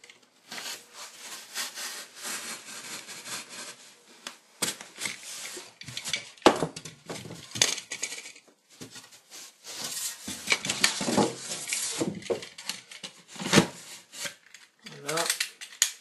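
A utility knife cuts through material along pencil lines while building a hidden compartment, giving irregular close scraping and rasping strokes with pauses and occasional knocks.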